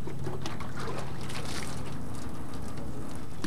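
A wash mitt is rinsed in a bucket of water while detailing a car, giving a steady sloshing and trickling wash with continuous dense water noise and no voices.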